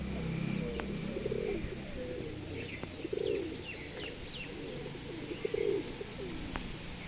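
Pigeons kept in a coop during rainy weather coo in low repeated throaty bursts, with scattered chirps and a few sharp clicks over a steady windy background.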